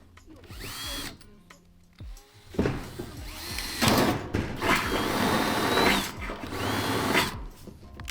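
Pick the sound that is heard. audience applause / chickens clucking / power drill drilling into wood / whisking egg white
power drill drilling into wood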